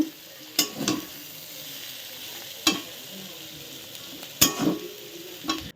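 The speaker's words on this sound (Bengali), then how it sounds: "এখন আলু ভাজাও বসিয়ে দিয়েছি" Potatoes frying in a pan in a home kitchen: a low steady sizzle punctuated by four sharp scraping stirs of a spatula at irregular intervals, nearby and alone.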